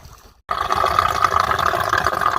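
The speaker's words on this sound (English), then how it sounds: "suddenly out the pipe down here comes gushing water" Water gushes from a white pipe at a spring along the Appalachian Trail. After a brief quiet moment it bursts in abruptly as a loud, close, continuous rushing splash.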